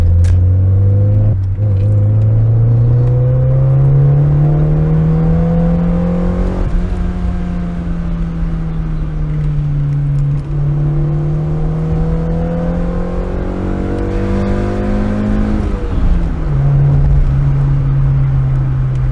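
A small engine in a Honda Civic EJ6 drones steadily and loudly from inside the car, its pitch rising as it speeds up, dropping at gear changes, then climbing again.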